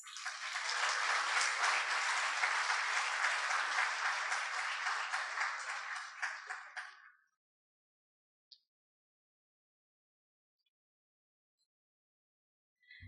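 Audience applause welcomes the feature speaker, Ms. Scott, at a Couva East graduation ceremony: a broad, loud wash of clapping that holds steady for about seven seconds, then cuts off into near silence.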